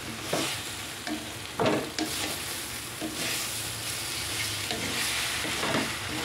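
Bitter gourd (ampalaya) and egg being stirred as they fry in a pan, with a continuous sizzle broken by scraping spatula strokes at an uneven rhythm, close and fairly quiet.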